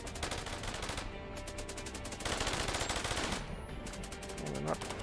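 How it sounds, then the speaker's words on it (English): Rapid automatic gunfire in the zombie strategy video game Cepheus Protocol, dense rattling bursts firing continuously with brief lulls, fairly quiet in the mix. "I'm thinking it's probably because we're drawing them down here with our gunfire."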